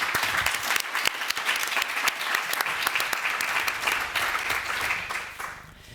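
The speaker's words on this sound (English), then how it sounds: "I'd like to start by giving a round of applause to the translator, who we don't see, who makes all of this possible." Applause from the audience of a panel discussion fills the hall, steady broad clapping from many hands that holds for several seconds and then fades away.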